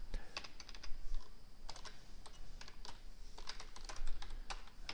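Close computer keyboard typing in irregular bursts of crisp clicks and key taps, some quick clusters and short pauses between, no voices.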